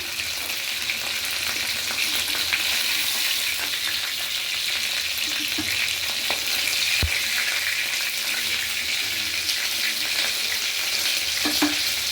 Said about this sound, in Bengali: মাছ আমার ভাজা হয়ে গেছে এবার মাছগুলো তুলে নেবো